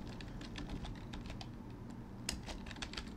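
Someone types a command on a computer keyboard for a Raspberry Pi 3 setup, a quiet, close, steady run of rapid key clicks with no talking.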